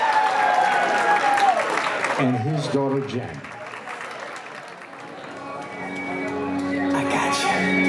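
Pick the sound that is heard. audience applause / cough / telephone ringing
audience applause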